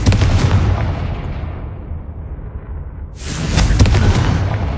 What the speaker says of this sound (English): Confringo. These eggs must be destroyed. Confringo.